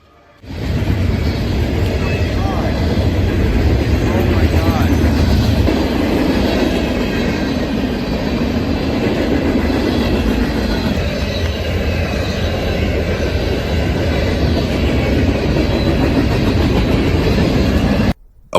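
A train rolls past on railroad tracks, loud and close, with continuous rumbling and clattering wheels that hold steady for nearly the whole stretch before cutting off.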